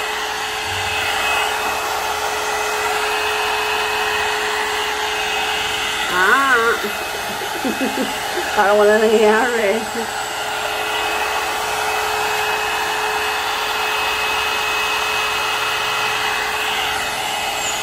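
A hot air brush running on its low setting gives off a steady, loud whirring hum with a faint high whine that holds constant throughout, while someone speaks briefly over it.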